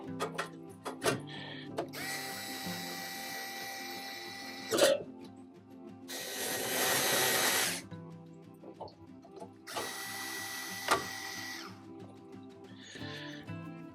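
A power driver whirs in several bursts, each a few seconds long, as four screws are backed out of the induction fan cover on a Pit Boss 5 Series pellet grill, with small clicks and handling noises between them.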